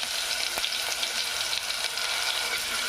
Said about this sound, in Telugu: పచ్చి వాసన పోయేదాకా వేసుకుందాం.